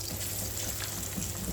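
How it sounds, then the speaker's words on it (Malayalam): Small chicken pieces frying in hot oil, a steady, even sizzle with faint crackle that holds at one level throughout, close by, with no talking. "എല്ലാം നമുക്കിതുമാതിരി എണ്ണയിലോട്ട് ഇട്ടൊന്ന് ഫ്രൈ ആക്കി എടുക്കാം"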